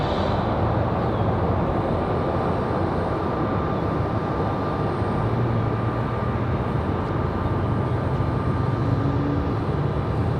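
A Southwest airliner landing at Raleigh Durham airport gives a loud, steady broadband engine roar with a faint whine on top, unbroken for the whole stretch, with no voices.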